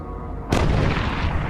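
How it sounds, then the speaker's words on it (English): A sudden loud blast cuts in after quiet and sustains as a dense, booming burst, like heavy gunfire or a cannon shot, from gunshots in the film Spring Breakers. "What is up with the gunshots?"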